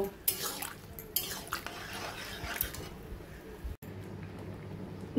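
A spoon scrapes and clinks in a pan as sambar masala is stirred into dal and vegetables, with soft irregular knocks and wet rustles, fairly quiet and close.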